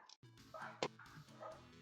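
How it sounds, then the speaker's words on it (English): A faint dog bark rings out once amid quiet background music, distant and brief. "I'm listening for my dogs because they're barking and it's incredibly obnoxious."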